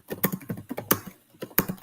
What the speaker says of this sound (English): You're typing. I can hear you typing.